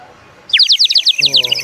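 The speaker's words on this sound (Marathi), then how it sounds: "आणि ही मातीची चिमणी आहे. हो. हा, तिचा आवाज येतो ही." A small clay bird toy whistle gives a loud, rapid series of bird-like chirps, close by, after a brief quiet moment with faint voices, at a market fair in Borivali.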